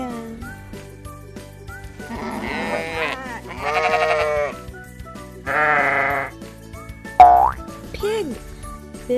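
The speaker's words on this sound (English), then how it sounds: "Sheep says baa, baa." Sheep bleating on a farm, several drawn-out baas in a row, loud and close, with a short springy boing-like sound near the end and some background noise.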